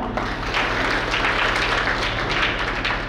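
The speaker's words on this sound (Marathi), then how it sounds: "तुमच्यासाठी एकदा टाळ्या वाजवा." Sustained applause from an audience at a kirtan devotional gathering in Vilholi village, dense steady clapping filling the whole stretch at even loudness with no talk over it.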